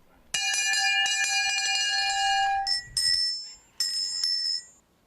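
A small hand bell rings steadily for a couple of seconds, bright and close, then gives two shorter separate shakes after brief pauses.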